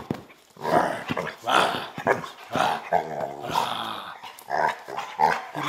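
Mitch, a six-year-old dog, makes a run of close, varied throaty growls and moaning vocal sounds in uneven bursts, almost talk-like in rhythm, with no other sounds around him.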